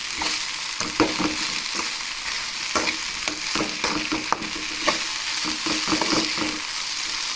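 Okra curry is stirred in a pan over a steady frying sizzle, with frequent clattering scrapes of a spoon against the pan in an uneven rhythm.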